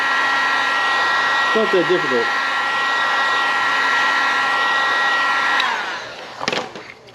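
Heat gun or hair dryer blowing steadily close up while heating heat-shrink on the wiring of a vintage Honda CL350 motorcycle. A loud, even whine runs for several seconds, then cuts off with some handling noise, and a brief voice is heard.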